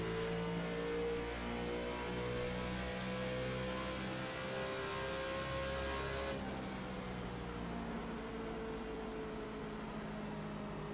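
A NASCAR Nationwide car in iRacing at Twin Ring Motegi, its engine droning steadily and loudly with a sustained high-revving whine and small pitch shifts throughout, alone without talk.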